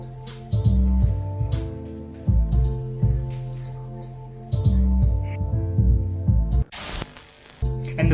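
A hip-hop beat plays with an arpeggiated piano line over a punchy drum break and deep booming 808 bass, looping in steady bars, with a brief noisy sweep near the end.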